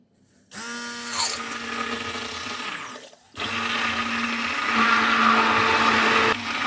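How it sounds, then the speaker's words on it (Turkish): A blender whirs loudly in two bursts, stopping briefly and then running again with a grinding, churning tone as it mixes thick, partly frozen lemon ice cream. "Şimdi blenderla 3-4 dakika karıştıracağım."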